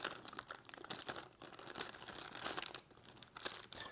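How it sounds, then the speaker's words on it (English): A plastic bag is opened close up, giving continuous quiet crinkling and crackling with small bursts of sharper rustle throughout. "let's start opening up this plastic bag."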